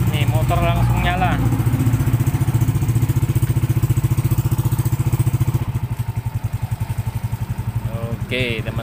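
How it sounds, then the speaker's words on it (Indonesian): A Honda Vario keyless scooter engine idles steadily and close by after a blown-fuse fault is fixed, a continuous low rhythmic putter running the whole time, with someone talking over it. "Nih, motor langsung nyala."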